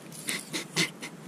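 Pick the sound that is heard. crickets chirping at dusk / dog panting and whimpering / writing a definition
dog panting and whimpering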